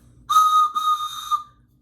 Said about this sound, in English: I even brought my train whistle.